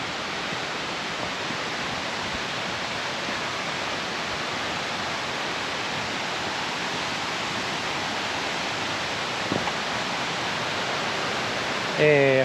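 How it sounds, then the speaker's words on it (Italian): A constant, dense rush of falling water fills the whole stretch, steady and enveloping, standing near the Papalini waterfall in the woods near Campodalbero, Italy, with a brief knock near the end. "a quanto sembra siamo arrivati alla cascata dei Papalini"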